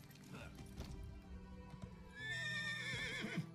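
Horse in the video game Elder Scrolls Online lets out a loud, drawn-out whinny in the second half, its wavering high cry rising over game music and ambience, with clip-clop hoofbeats earlier.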